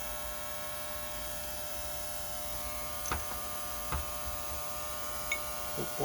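Ultrasonic cleaner running with a motorcycle carburetor from a Yamaha inside, giving a steady electrical hum and buzz throughout, with a few faint clicks and knocks nearby and no talk.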